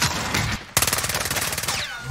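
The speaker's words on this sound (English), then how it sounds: "I'm taking fire." Rapid video-game gunfire from Call of Duty Warzone Rebirth: a short burst, a brief gap, then a loud, close, continuous stream of automatic shots that stays dense until the end.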